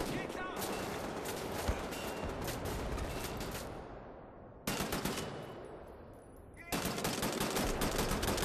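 A machine gun emplacement in the shooter game Wolfenstein The New Order fires long, dense bursts of rapid automatic gunfire, loud and close, broken by two brief pauses before resuming.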